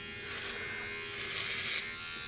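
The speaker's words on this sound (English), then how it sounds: "you can only shave one way with these attachments" A Micro Touch Solo titanium trimmer buzzes steadily up close, its motor pitch rising into two louder stretches as the head presses into the hair while shaving, with no talking.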